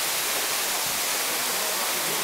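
A steady, broadband rush of falling water roars continuously throughout, loud and close, with no breaks or voices.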